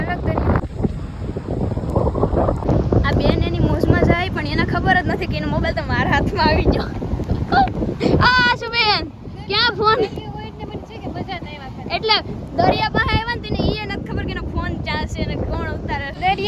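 Blustery wind at the seashore roars against the microphone throughout, steady and loud, as people talk over it.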